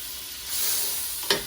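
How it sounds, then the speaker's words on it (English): Margarine melts in a hot pan on a low flame, giving a steady soft sizzle that swells after a quiet start, then a brief sharp spatter or clink near the end; no one talks. "Once your butter is melted, see, I'm letting all that butter melt."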